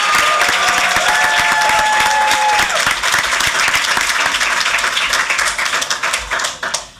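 Loud, dense applause fills a school board meeting room, steady for several seconds before thinning and fading out, with a few faint voices mixed in.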